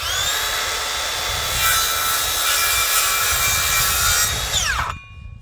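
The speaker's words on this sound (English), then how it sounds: "Make sure you cut on the right side of the line, Clay." A battery-operated power saw cutting through wood, running loud and steady with a whining buzz for about five seconds before spinning down and stopping, close by and alone.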